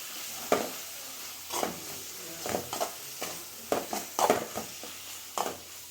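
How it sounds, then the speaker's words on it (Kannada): A spoon stirs chicken liver gravy masala in a frying pan, with repeated scraping strokes and a steady sizzle underneath, close and moderately loud. "ಎಲ್ಲನೂ ಒಟ್ಟಿಗೆ ಹಾಕಾಗಿದೆ, ಮಿಕ್ಸ್ ಮಾಡ್ಕೊಂಬಿಡೋಣ."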